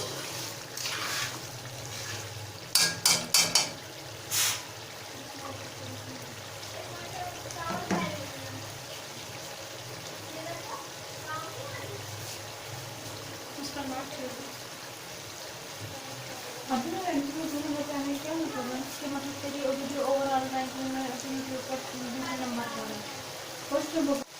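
Dhaba-style chicken karahi masala being stir-fried in a wok, a steady sizzle with some sharp spoon clanks early on, as a voice talks over the cooking throughout.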